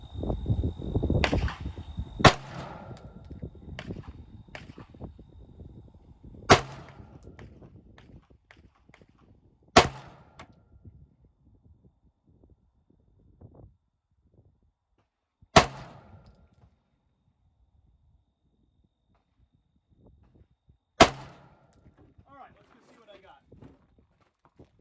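Pistol shots fired at a target on a range while zeroing a red dot sight: five sharp, loud reports spaced several seconds apart, each followed by a short echo, with talk near the start.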